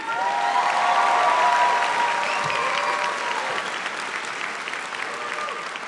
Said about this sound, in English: Let's all give Miss Nickel and Miss Ostrowski a round of applause